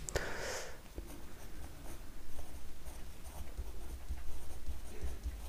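Pencil or pen scratching across engineering drawing paper while a rectangle is laid out for an ellipse, with a short burst of strokes at the start followed by soft, steady scratching close by.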